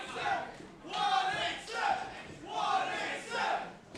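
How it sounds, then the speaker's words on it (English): Wrestling arena crowd at a live match chanting "187" in rhythmic waves, four swelling bursts of massed voices repeating the chant loudly. "And you hear the crowd chanting 187."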